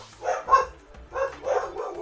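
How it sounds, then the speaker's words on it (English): Dogs bark in a quick series of short, muffled yips and woofs, a pair of barks, a pause, then two more, close and moderately loud with no talking. "My dogs."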